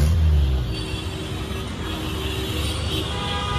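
Busy night street traffic in Dhaka, a steady close rumble of cars, buses and motorbikes with a constant roadway wash throughout.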